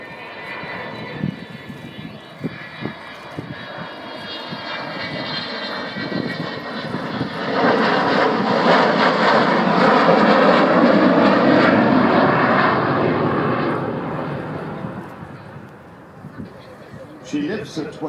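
Avro Vulcan B2 XH558 delta-wing jet bomber performing a flying display at Cosford, its engine roar building from a distant rumble to a loud, sustained howl before fading, with crowd chatter underneath.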